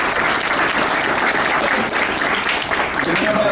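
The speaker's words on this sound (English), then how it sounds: "Please give the boys a round of applause." Loud, dense applause from a banquet audience at a 2018 Stilwell High School sports banquet, honouring the boys team, steady and close for the whole stretch.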